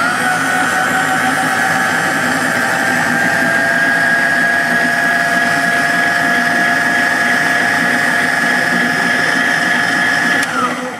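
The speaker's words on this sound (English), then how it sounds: "Okay, let's hit start" An Erweka LK5 laboratory kneader's motor runs continuously, a loud steady electric whine with a sustained high tone and rumbling undertone that stays even throughout before cutting off at the end.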